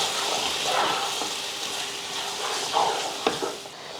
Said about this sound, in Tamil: மட்டன் பாருங்கள் நல்லா வதக்கி எண்ணெய் பிரிஞ்சே வந்துருச்சு